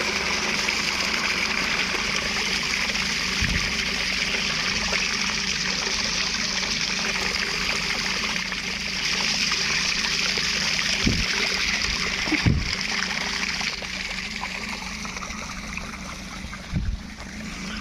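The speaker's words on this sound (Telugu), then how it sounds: "వాటర్ పెట్టారు చేనుకి" Irrigation water flows steadily into a sugarcane field, a continuous broadband trickling and gushing rush held at an even level throughout, with a few brief low knocks near the end and no talk.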